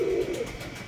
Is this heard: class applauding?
no